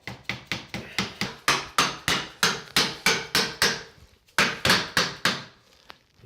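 Door shims are hammered behind a bathroom wall mirror to pry it loose, giving a steady run of sharp, close hammer blows, then a short pause and another quick burst of strikes.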